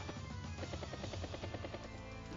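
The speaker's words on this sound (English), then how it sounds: "Helicopter heading up north." Steady, loud whirring rotor thump of a helicopter unit moving in the Advance Wars game, a continuous rhythmic chop filling the short clip with no talking.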